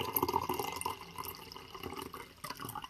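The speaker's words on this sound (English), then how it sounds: "Oh, I'm gonna pour out the rest of this." Leftover tea is poured out, a faint, continuous watery splashing and trickle lasting a few seconds at low volume.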